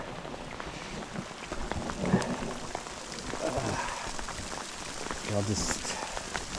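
Hail patters and rattles steadily on surfaces around an outdoor overnight fly fishing trip, a dense, even hiss of small impacts close by, with someone speaking briefly over it.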